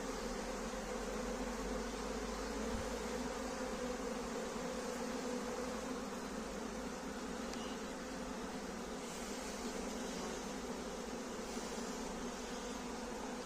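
A swarm of honeybees hums steadily and continuously at a beehive during swarm capture, a dense, even drone that holds without pause from start to finish.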